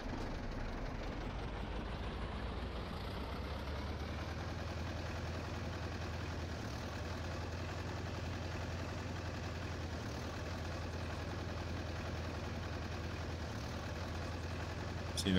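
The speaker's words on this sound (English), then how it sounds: "I also learned that I have to drive this tractor in manual" A tractor engine running in the Farming Simulator video game, a steady low droning hum that holds constant and fairly loud for the whole stretch, with no voices.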